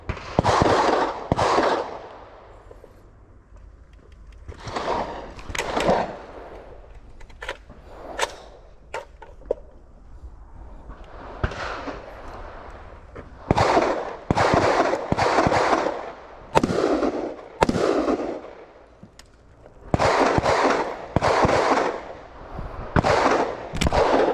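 Rifle shots at an outdoor shooting range, many sharp loud cracks in irregular bursts and clusters, some close together, with a steady background hum between volleys.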